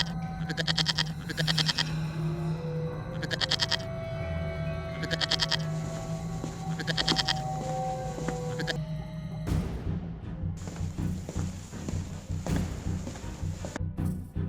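A cartoon herd of goats bleats in repeated rhythmic bursts, several calls overlapping at close range over steady background music, followed by lighter scattered sounds.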